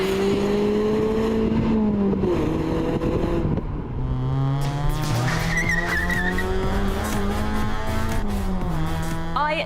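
A Mazda MX-5 two-seater roadster is driven hard nearby, its engine revving up and down through gear changes while the tires squeal in sustained skids.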